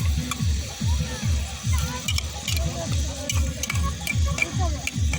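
Chicken being sautéed in a pan at an outdoor picnic, with a steady sizzle and rhythmic stirring scrapes repeating about twice a second, close by, while people talk nearby.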